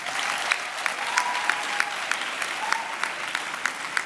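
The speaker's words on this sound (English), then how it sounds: "So let's give them a round of applause." A graduation ceremony audience claps in sustained, even applause at a campus hall, many hands blending into a continuous wash with a few sharper claps standing out.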